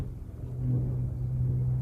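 Car engine with an unresolved electrical fault rumbling low as it is started, a steady close-up idle drone that swells slightly partway through, with no voices.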